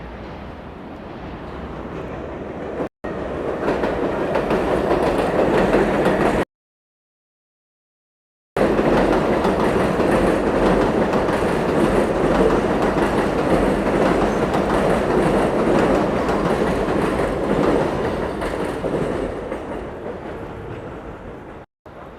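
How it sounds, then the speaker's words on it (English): A train pulls into the 86th Street station in Brooklyn with a loud, sustained rumble and rattle of rolling wheels, broken by a brief gap of silence, then continuing steadily close by. "Here's the train coming."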